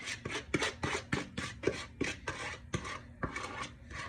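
Wet and dry ingredients for a zucchini, coconut, carrot, raisin and walnut bread batter are mixed in a bowl, with steady rhythmic scraping and clinking strokes, close and moderately loud, and no talking.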